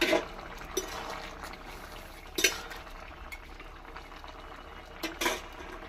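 A thin Bengali curry of vegetables, bottle gourd stems and tangra fish bubbles quietly in a pot, a soft continuous simmer broken by a few light clinks of utensils.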